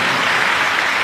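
A dense, steady wash of applause from a large audience at a religious discourse gathering in Kanker, Chhattisgarh, loud and close with no pauses.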